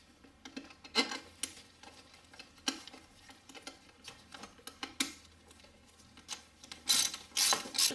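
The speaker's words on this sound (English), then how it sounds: "Put the bolts back on." A hand ratchet snugs the valve cover bolts on a 2007 Toyota Highlander Hybrid engine, giving off quick bursts of close, crisp clicking with short pauses between strokes.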